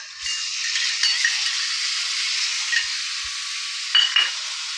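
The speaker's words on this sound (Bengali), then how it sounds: "দিয়ে ভালো করে নাড়িয়ে আর একটু কষিয়ে নেব।" A pan of Bengali egg curry with potato sizzles steadily after whisked yogurt goes in, while it is stirred with a few soft scrapes and light clinks from the utensil.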